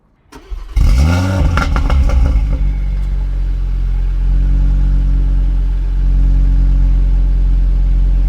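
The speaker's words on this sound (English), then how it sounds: "let me give you a start now of how the exhaust sounds" An Audi RS3 (8Y) engine cranks and fires up, settling into a deep, loud, rumbling exhaust idle that holds steady afterward.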